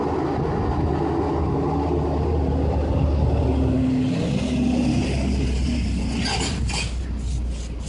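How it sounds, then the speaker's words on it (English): A Pepsi delivery truck passes on a street near a factory, its engine rumbling steadily and building slightly before fading, with some mechanical rattling near the end. "Sorry about the Pepsi truck driving by"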